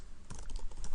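Someone types a password on a computer keyboard in a quick, dense run of close key clicks lasting about a second, with no talk.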